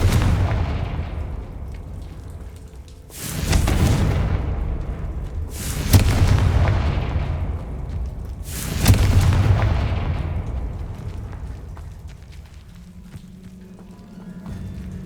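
Confringo blasting spells in the Hogwarts Legacy video game go off as three heavy booming explosions spaced a few seconds apart, each loud with a long fading rumble, alone without talk.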